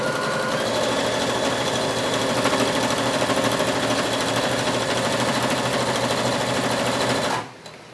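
Sewing machine stitching the sides of a Kunin felt clutch purse with a one-eighth-inch seam, running loud and close without a break for over seven seconds, then stopping abruptly.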